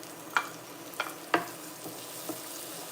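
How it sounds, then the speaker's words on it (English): Green onions sautéing in a pan, with a low steady sizzle broken by a few sharp clinks of a utensil stirring against the pan. "So we're gonna put the onions in."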